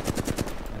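Rapid automatic gunfire in the video game Apex Legends, a quick burst of about five close, loud shots in even rhythm lasting under a second.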